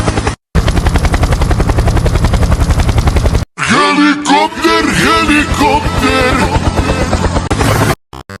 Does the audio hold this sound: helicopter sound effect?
yes